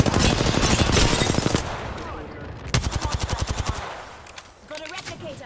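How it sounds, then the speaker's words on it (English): Rapid automatic gunfire in the battle royale game Apex Legends, two loud bursts of fast evenly spaced shots with a pause between them, followed by quieter game effects. "I'm getting shot at"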